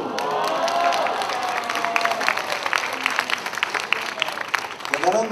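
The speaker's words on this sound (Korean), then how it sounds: "대단한 말도 안 했는데 이렇게 박수를 치니까" Worship-service audience applauding steadily in a large hall, the clapping mixed with cheers and crowd voices throughout.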